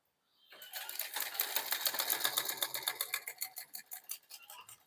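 A sewing machine stitches a sleeve with a fast, even tick-like mechanical rhythm that builds, runs steadily for a few seconds and then slows, close but fairly quiet.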